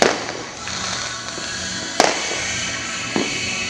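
Fireworks burst on New Year's Eve for the Year of the Horse, a dense crackling barrage with sharp louder bangs standing out every second or so, fairly close.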